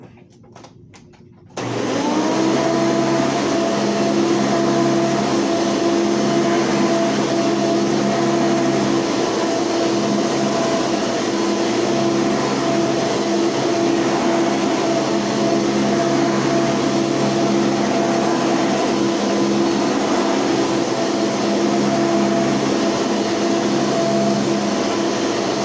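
After a brief quiet moment, a Hoover vacuum cleaner motor starts up and runs loudly and steadily, with a constant whine and hum throughout.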